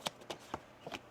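A few quick, crisp snaps of tarot cards being shuffled in an uneven rhythm, close up and fairly quiet.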